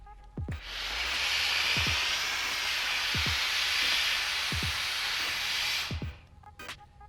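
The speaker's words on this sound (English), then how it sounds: "start a corner, and then gently peel and steam at the same time" A handheld steamer hisses loudly and steadily while vinyl graphics are peeled off a vehicle, one continuous rush of steam for about five seconds, with short clicking or tapping sounds around it.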